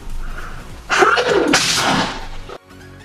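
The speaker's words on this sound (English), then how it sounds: "Every time I do this, I always have to sneeze." A single loud, close sneeze bursts out with a sharp intake and explosive release, then quiet follows.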